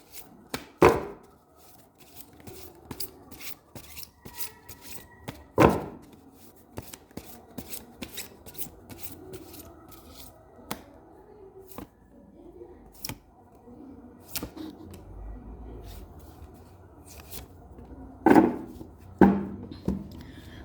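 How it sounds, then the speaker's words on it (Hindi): Tarot cards being shuffled by hand, soft papery riffles and taps in irregular bursts with louder slaps at a few points, fairly close and quiet, with occasional faint speech. "इतने कार्ड ना आओ यूनिवर्स, मैं थोड़ा सा इनको ज़्यादा शफल करूँगी।"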